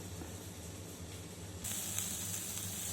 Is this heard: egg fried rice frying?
yes